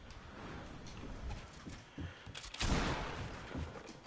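Bursts of rapid gunfire from a Fortnite match, a loud cluster of shots swelling midway over a busy background of game noise, with no clear talk.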